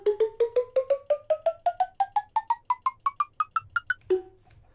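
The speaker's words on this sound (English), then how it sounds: "On soul sand, the note block will now play a cowbell sound." Minecraft note block set on soul sand playing the cowbell sound, a rapid run of about twenty bright metallic clanks rising steadily in pitch, then one lower final hit, clear and alone.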